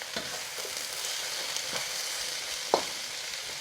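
Vegetables sizzling in a chicken and vegetable stir-fry pan, a steady soft hiss with a few faint scrapes and clicks of a utensil, one slightly louder tap near the end.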